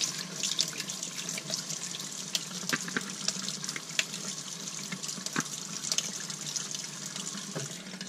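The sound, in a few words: tap water running through sprayer part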